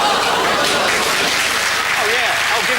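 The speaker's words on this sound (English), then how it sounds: "Oh, give him a round of applause" Audience applause at a boxing talk show event, steady dense clapping throughout with voices talking and exclaiming over it, loud and close.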